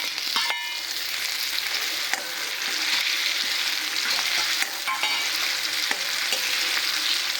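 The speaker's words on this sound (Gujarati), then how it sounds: "ડુંગળીને થોડી ચડવા દઈશું." Onions for veg Manchurian frying in a pan with cumin, a loud continuous sizzle broken by repeated scraping stirs and utensil taps, heard close with no speech.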